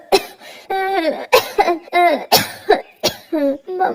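A child coughs repeatedly in short harsh bursts in a Hindi cartoon, close and loud, with strained voiced sounds between the coughs.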